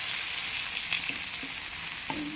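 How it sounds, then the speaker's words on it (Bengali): Onions frying in oil are stirred in a pan, a dense continuous sizzle up close with a few soft scrapes of the spoon breaking through. "ভালো করে তেলের সাথে মিক্স করছি যাতে ভালো করে তেলের মধ্যে পেঁয়াজটা ভাজা হয়"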